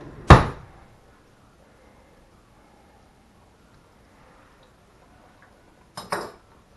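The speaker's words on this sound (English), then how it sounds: "get a clean spoon and give it another taste" A clean spoon clinks sharply against a dish of crab rangoon filling, one bright metallic tap followed by quiet, then a second short clatter near the end.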